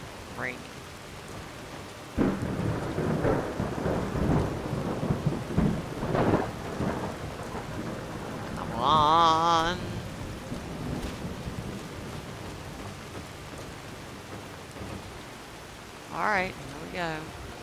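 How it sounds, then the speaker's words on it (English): Steady rain patters and distant thunder rumbles in the video game Skyrim, a continuous wet hiss with low rolling booms, while someone talks at times and voiced game sounds cut in briefly. "See if it's still raining."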